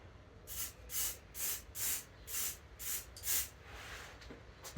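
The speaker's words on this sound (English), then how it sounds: "spray it with the Colour Forge matte varnish" Colour Forge matte varnish sprayed from an aerosol can over a wargaming board, six short hissing bursts in an even rhythm, close and fairly quiet, with no talking.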